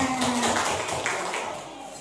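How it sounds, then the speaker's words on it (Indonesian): Elderly participants at a community health education session at an Indonesian health centre clap hands in a short rhythmic burst, fairly close, with faint voices. "Tepuk tangan"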